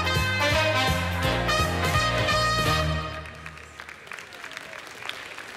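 Loud music with a pulsing beat cuts off after about three seconds, and an audience breaks into clapping that carries on at a softer level to the end.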